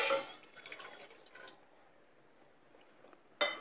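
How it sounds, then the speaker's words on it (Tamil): About one cup (250 ml) of water is poured into a cooking pot, giving a brief splashy rush in the first second or so, then near silence until a single sharp knock at the end. "இதில் 250 ml கிட்டத்தட்ட 1 கப் வரும், 1 கப் அளவுக்கு உள்ள தண்ணீர் இது நீங்கள் சேர்த்துக்கோங்க."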